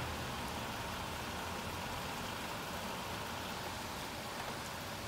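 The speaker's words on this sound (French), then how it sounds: "moitié pluie et mélangé de grêle et de neige" Steady, dense patter of mixed rain, hail and snow falling outdoors in a heavy graupel shower, an even hiss with no breaks.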